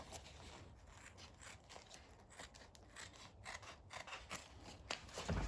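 Scissors snip through vinyl top material during a makeshift seam on a 1968 Ford Thunderbird vinyl top installation, giving quiet, close rasping cuts and rubbing in an irregular run, with no talk.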